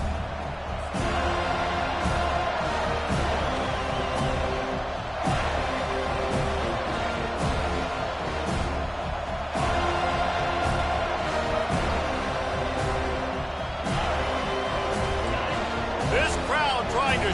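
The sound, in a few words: football stadium crowd noise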